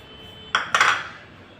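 A dry snack mixture is stirred in a hot pan, with two quick metallic clinks of a utensil against the pan in close succession and quiet otherwise.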